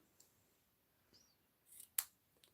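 Scissors snip through fabric in a few quick, quiet cuts, the sharpest one near the end, with soft rustling between.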